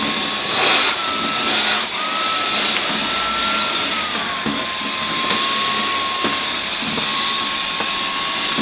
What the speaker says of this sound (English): vacuum inside